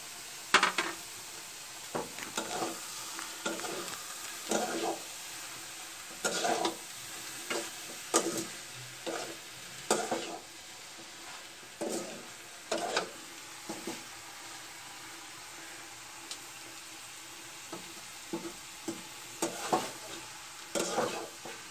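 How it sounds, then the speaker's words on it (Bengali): Onion flower fritters frying in a pan with a constant low sizzle, broken by repeated rhythmic stirring and scraping of a utensil against the pan, no one speaking. "আমার পেঁয়াজ ফুল ভাজি করা হয়ে গেছে"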